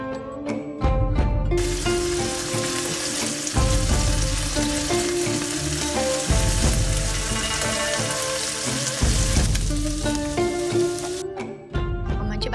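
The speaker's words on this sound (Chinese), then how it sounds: "煎着比蒸着香，所以我们用小火煎" Lobster brain sizzles steadily as it pan-fries over low heat, a continuous crackling hiss that runs for the whole stretch beneath a layer of music.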